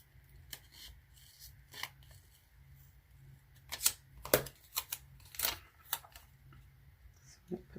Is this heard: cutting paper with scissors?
yes